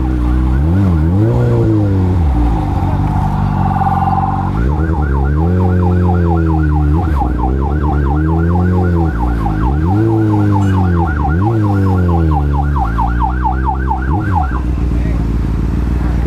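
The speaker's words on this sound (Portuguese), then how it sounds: "Caramba, a ambulância vem ali." A wailing ambulance siren sweeps up and down repeatedly, close and loud, switching midway to a faster yelping pattern over steady traffic rumble, heading to an accident.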